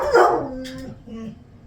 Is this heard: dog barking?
yes